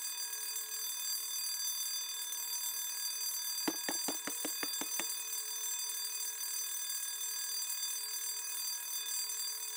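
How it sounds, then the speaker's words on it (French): A newly installed home security alarm rings in a short burst of about eight rapid bell-like strikes lasting just over a second, set against a steady electronic hum, with no one speaking. "C'est une nouvelle alarme de sécurité pour notre maison."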